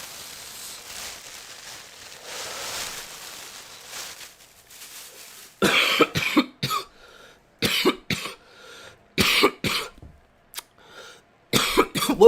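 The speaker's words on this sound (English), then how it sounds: "Coughing, guys. Sorry. Right into the mic." Repeated harsh coughs and throat clearing land right on the microphone in irregular bursts, loud and close, after a stretch of quiet background hum.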